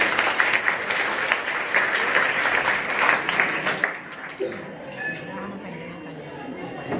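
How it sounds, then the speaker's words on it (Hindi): Students in a school classroom applaud together in steady, dense clapping that fades out partway through, leaving murmuring chatter. "एक बार ताली अपने लिए बजा लीजिए"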